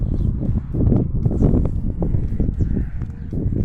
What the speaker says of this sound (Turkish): Rüzgar esiyor bir taraftan.